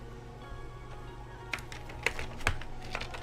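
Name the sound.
typing on keys of a Baka60 mechanical keyboard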